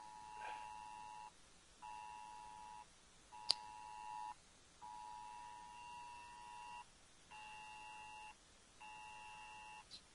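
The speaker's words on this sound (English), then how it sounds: "Something was beeping and I couldn't figure out what it was" Faint electronic beeping repeats in steady, evenly spaced pulses, with one sharp click partway through, otherwise quiet.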